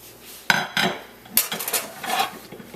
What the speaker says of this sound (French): On fait juste piler nos pommes de terre.